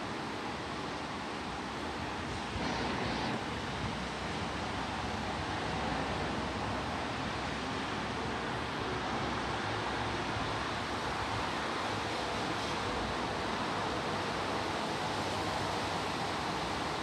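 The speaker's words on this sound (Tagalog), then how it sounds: "Hangin lang po guys ang malakas, tsaka kunting ulan lang po sa ngayon." Strong typhoon wind with light rain in Hong Kong roars as a steady, dense broadband rush that stays loud and unbroken throughout, with no clear voices on top.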